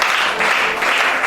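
A church congregation breaks into loud, dense applause that fills the whole moment, close and sustained without a break.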